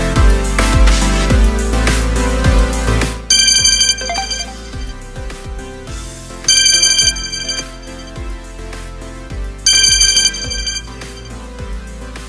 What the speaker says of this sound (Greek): Πάμε να εκτελέσουμε την εντολή αυτή και να χτυπήσει το κινητό μας